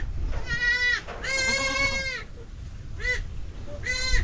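Goats, including two kids and a pregnant doe, bleat loudly in several drawn-out, wavering calls with short pauses between them, close by, with no talk over them.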